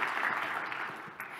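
An audience at a cloud-native security conference talk gives a round of applause, a soft, steady wash of many hands clapping heard from a distance, fairly faint and brief, with no voices over it.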